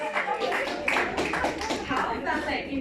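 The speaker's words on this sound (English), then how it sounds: "A hand of applause, please." A brief round of audience clapping for a presenter at a nursing leadership talk, mixed with voices and chatter throughout.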